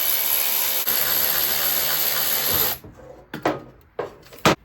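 A power tool, likely an impact driver, buzzes loud and steady while removing the 12mm rear foot peg bolts on a Honda CRF110 dirt bike, then stops, leaving a few sharp metallic clanks and short bursts.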